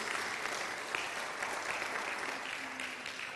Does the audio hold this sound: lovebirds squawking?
no